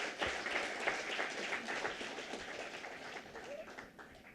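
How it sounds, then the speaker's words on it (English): An audience at the inauguration of an event series at BMS College of Engineering gives a round of dense, continuous applause that slowly fades over several seconds, heard at a moderate distance. "A big round of applause to them."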